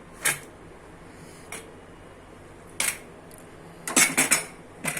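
A pressure cooker of boiled rice with ghee is opened after the steam has been released: a few sparse, quiet metallic clanks and clatters of the lid and pot against a low room hum, with no talking.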